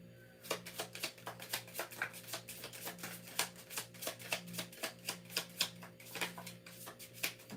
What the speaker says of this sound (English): Let's get a shuffle in or two.